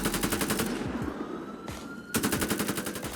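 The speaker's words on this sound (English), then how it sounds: "Partnering this up with the realistic weapon sounds pack makes gunfights in GTA 5 now feel completely different" Rapid automatic gunfire from a realistic weapon sounds mod in GTA 5, dense loud bursts of shots with a brief lull mid-way before the firing resumes hard and fast.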